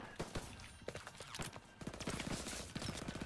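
Rapid gunfire from Call of Duty: WWII, in the Operation Cobra story mission: bursts of repeated shots crackle across the scene, with a dense run of automatic fire in the second half, loud and close with no talk over it.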